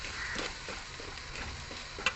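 Chili powder and Kashmiri chili spices fry quietly in a pan, with a soft continuous sizzle and gentle scraping strokes of stirring over a couple of seconds.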